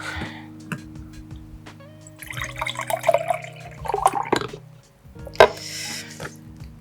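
Liquid pours and splashes with trickling, gurgling water sounds for several seconds over a low steady hum, loud and close.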